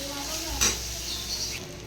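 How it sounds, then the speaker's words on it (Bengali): Prawns sizzle softly in oil in a kadai with salt and turmeric, a brief close stir or clatter rising over the steady frying hiss. "কড়াইতে তেল দিয়ে, চিংড়ি মাছটা দিয়ে নুন হলুদ দিয়ে দিয়েছি"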